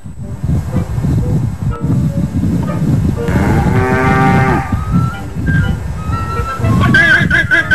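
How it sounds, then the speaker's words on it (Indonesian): Loud, drawn-out lowing from a water buffalo close by, a long moaning call with rising harmonic tones over a busy background. "setiap kerbau mengeluarkan suara"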